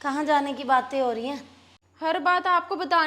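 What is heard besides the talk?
No distinct noise like a dog, phone or traffic.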